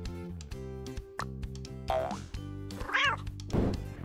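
A cartoon-style cat meows several times over a busy bouncy music bed, the rising and falling cries standing out clearly in the middle and toward the end.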